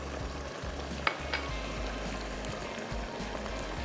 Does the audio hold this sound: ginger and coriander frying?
yes